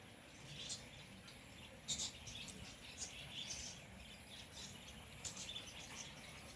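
Small birds chirp in scattered short tweets at the Raiganj Kulik Forest bird sanctuary, faint and somewhat distant, over a soft bed of insect buzz and ambient noise.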